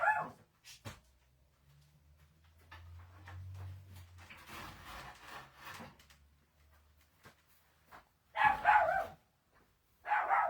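Dogs bark in short bursts near the start and toward the end, with soft rubbing and knocking sounds in between and no voices.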